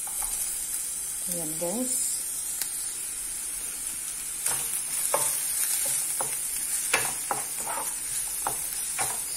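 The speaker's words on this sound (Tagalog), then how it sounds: "mainit na po yung ating frying pan. So, ilagay na po natin ang sibuyas." Chopped onions dropped into a hot oiled frying pan, giving a steady sizzle and crackle with scattered stirring clatter, while a voice speaks briefly over it.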